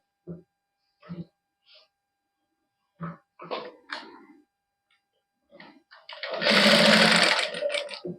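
Sewing machine stitching a side seam on a printed suit, a loud close whirring burst near the end following sparse speech in Punjabi.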